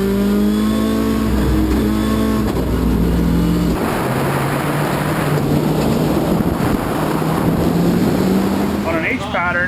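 Rallycross car built for X Games competition, engine roaring loud and close under full throttle, with rising harmonic tones broken by quick flat-shift gear changes around two and four seconds before a sustained high-rev drone.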